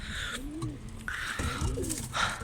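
Young pigeons coo softly on a balcony in short, low, rolling calls, repeated a few times close by against a quiet background.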